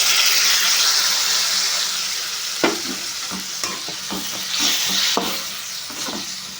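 Tamarind juice hits a hot pan and is stirred in: a steady sizzle with several sharp scraping knocks of a spoon against the pan.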